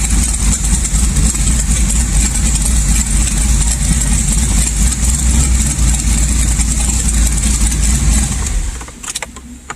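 An LS1 V8 idling in gear holds a loud, steady, rumbling note for about nine seconds, then drops away near the end and leaves a few faint clicks.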